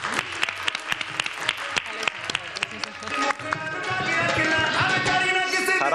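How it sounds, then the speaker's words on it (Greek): Audience applause for a guest at a Greek night show, starting with scattered individual claps and swelling into steady, fuller clapping from the studio crowd. "ένα χειροκρότημα στο Ταραμ"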